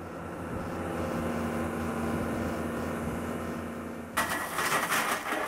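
Excavator running an SCS Trommex TX20 rotating screening bucket, a steady droning engine hum with continuous rattle, then a sudden burst of hissing, clattering material near the end.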